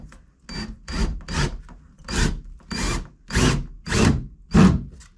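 Power drill boring into a hard-to-reach spot while running utility lines for water and electricity, heard as eight separate loud rasping bursts close by, each about half a second, with short pauses between.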